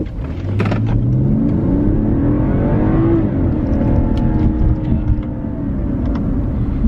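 A 2017 BMW 540i under hard acceleration, its engine rising in pitch as it revs toward 6,000 RPM before easing off into a steady roar, loud and heard from inside the car without talk.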